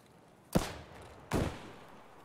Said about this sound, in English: Where is all the shooting coming from?